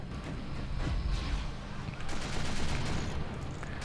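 Weapons fire in the video game Forts as dense, rapid bursts and booming blasts, with a brief lull midway before the volley resumes, loud and continuous.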